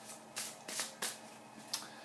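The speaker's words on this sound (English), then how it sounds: "Okay, so I've already shuffled the deck" A deck of oracle cards being shuffled, quiet and close, with several soft riffling bursts and flicks at irregular intervals.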